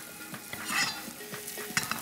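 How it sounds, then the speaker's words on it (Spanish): Onion sizzles in vegetable oil in a pan while being stirred, soft crackling with distinct scraping stir strokes close up. "Solo queremos por ahora que se nos dore un poco nuestra cebolla. Voy a colocar un poco de aceite vegetal."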